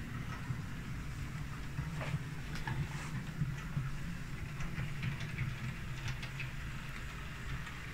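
A model railway locomotive runs along layout track with a quiet, steady motor hum and faint rolling rattle, broken by small ticks and clicks from the rails.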